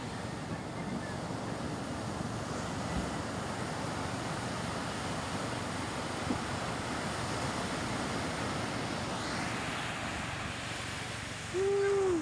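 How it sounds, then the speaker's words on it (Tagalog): Big ocean waves rumble and wash in a continuous broad roar, mixed with wind buffeting the microphone, steady and moderately loud with no clear breaks. "Ang laki ng alon."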